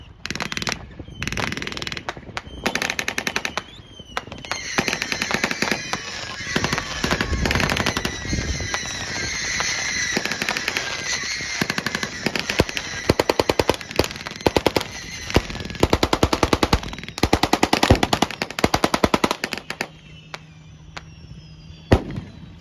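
Rapid rifle and machine-gun fire from a WWII reenactment battle at a thresher show, with Karabiner 98K bolt-action rifles among the weapons; dense overlapping cracks and bursts rattle on loudly and continuously before stopping, leaving a low hum.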